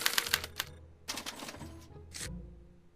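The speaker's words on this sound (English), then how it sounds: "As the responses are recorded, they're relayed to this special typewriter, which prints out a punch card that represents the subject's mind map." A special typewriter in the Back to the Future video game prints out a punch card. Three rapid bursts of mechanical clacking are heard close, separated by brief pauses and ending in a low whir, with no talk.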